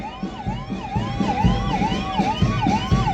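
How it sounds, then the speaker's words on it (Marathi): A Dial 108 ambulance in a Maharashtra Day parade at Nehru Stadium blares a loud, continuous wailing siren that sweeps up and down in quick, even cycles, close by, over a low rumble of vehicle noise. "रुग्णवाहिका वाहन"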